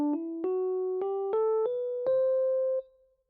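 Six single notes of a C Lydian scale with the raised fourth, played one after another in a slow steady rising line, the last note held and fading out, quiet and clean, no talking.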